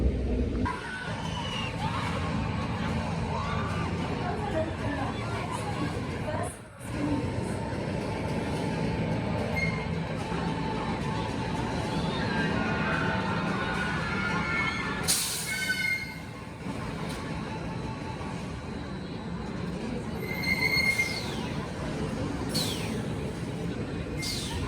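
Nemesis roller coaster trains at Alton Towers give a continuous rumbling roar of wheels on track with rattling, some squeals and whooshes passing nearby, steady and fairly loud throughout.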